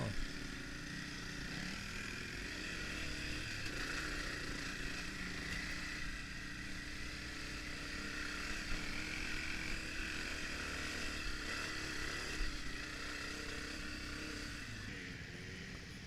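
A dirt bike engine, thought to be a 1982 Honda CRF250F, runs on a trail with a steady, continuous buzzing drone and no pauses, moderately loud throughout with faint mechanical roughness.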